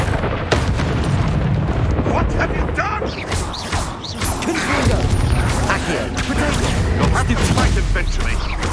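Booming fiery blasts from the Confringo spell in the video game Hogwarts Legacy, heard as repeated loud impacts among other spell effects and clattering mechanisms, with a voice calling out spell names over the combat.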